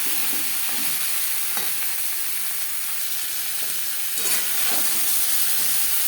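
Pointed gourd with turmeric and salt being stirred in a pan: a steady sizzling hiss runs throughout, with occasional scraping strokes of the spoon against the pan, close and continuous, no voices.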